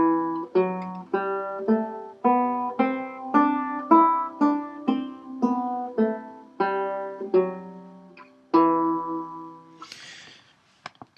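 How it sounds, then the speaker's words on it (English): A minor scale is played on a sustained, reedy keyboard-like instrument, about fourteen separate notes stepping up and back in an even rhythm, clear and alone, ending with a brief noisy rustle. "So the minor scale sounds like this."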